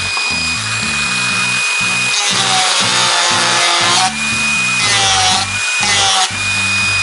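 Continuous abrasive rubbing on a Kydex plastic holster for a KWA 1911 with tactical light, a steady close power-sanding whine with a low pulsing motor drone and brief dips as the tool is lifted and repositioned.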